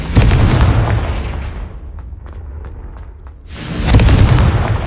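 Confringo fire spell blasts in Hogwarts Legacy on PlayStation 4 Pro: a loud, heavy booming burst opens, fades into a lower rumble, then a second powerful explosion roars back near the end.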